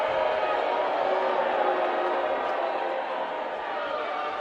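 High school boys basketball crowd in a gym, a dense steady roar of voices reacting with displeasure after a foul call, loud and continuous throughout.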